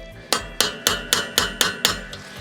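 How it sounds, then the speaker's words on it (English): A small ball peen hammer strikes a bolt seven times in steady succession, each blow a sharp, loud metallic clank with a short ringing decay, close by and with no voices. "And then I got my little ball peen hammer here."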